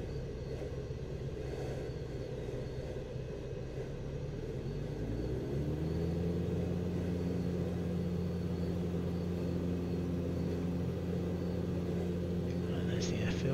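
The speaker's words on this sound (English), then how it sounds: "So I need to increase the throttle somewhat. Some power on so I can climb a little." Light aircraft engine in flight as the throttle is opened to climb, a steady drone that rises in pitch and strength partway through and then holds, with a voice talking under it.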